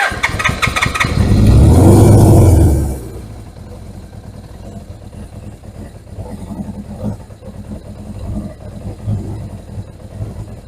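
A 1981 Suzuki GS750 motorcycle engine, just started and missing its airbox, roars loudly up close for about three seconds before settling into a quieter, slightly uneven idle with faint clatter.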